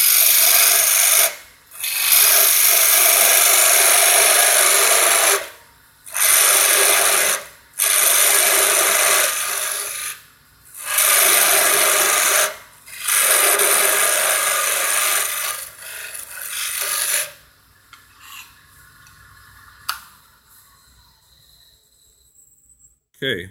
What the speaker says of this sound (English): I could use a small skew, but I'll just stick with a parting tool.